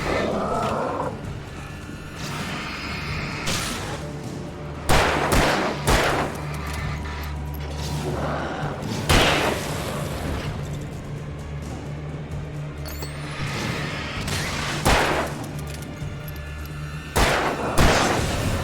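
Gunfire from the video game Alan Wake Remastered, a run of loud sharp shots in irregular bursts over a rumbling game soundtrack, with no talking.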